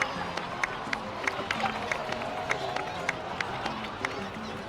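A crowd in the video game Genshin Impact claps and cheers in a steady roar, with regular sharp accents punctuating the noise and low voices murmuring underneath.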